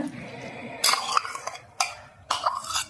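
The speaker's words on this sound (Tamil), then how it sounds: "கொஞ்சம் கொஞ்சமாக போட்டு கூட அப்படியே ஒன்று மிக்ஸ் ஆக்கி ஒன்று நசுக்கி எடுத்தால் போதும்" Prawn vadai batter mixed and crushed in a pot, with scraping, sticky stirring strokes and three sharper crunching bursts in uneven rhythm, close up.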